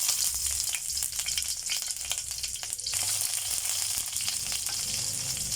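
Onions sauté in a pan for a Bicolano ginataang langka, crackling in a dense, steady, close sizzle with faint stirring through it.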